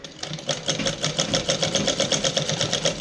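A sewing machine runs a seam on a petticoat with rapid, evenly spaced needle thumps over a whirring motor, close and steady throughout.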